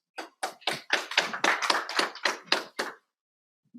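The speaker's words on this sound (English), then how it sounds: "A round of applause" Short applause from a small audience after a speaker is introduced at a conference session: about ten separate claps or bursts over three seconds, fairly close, then silence.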